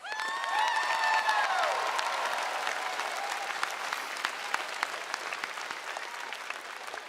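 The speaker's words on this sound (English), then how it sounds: "Let's give ourselves a big round of applause." Graduating high school class and audience applauding at a graduation ceremony, a dense sustained burst of clapping that fades slowly, with a few faint cheers early on.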